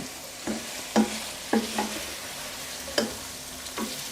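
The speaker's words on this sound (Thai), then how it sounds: "ขั้นตอนนี้ก็คั่วในกระทะแบบนี้นะครับ" Pork belly with fish sauce stir-fries in a pan under a soft, steady sizzle. Distinct spatula scrapes and taps land about every half second.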